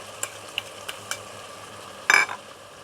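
Crushed garlic stirred in a hot pan, a few soft scraping taps of a utensil followed by a brief, louder burst of sizzling frying near the end, heard close up with no talking.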